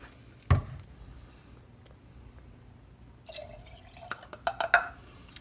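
Soy sauce and vinegar poured into a bowl, a sharp knock followed by quiet, then a short trickle and a few splashy drips close by.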